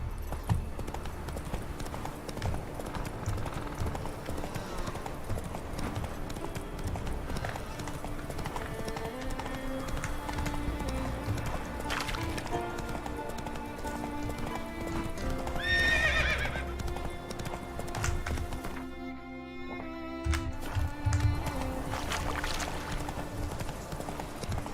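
A horse in The Witcher 3 gallops with a steady, rhythmic clip-clop of hooves, and a whinny rises partway through, all over game background sound.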